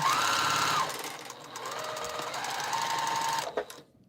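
Sewing machine stitching quilt seams, its steady motor whir running close and loud in two stretches with a short dip between, then cutting off near the end.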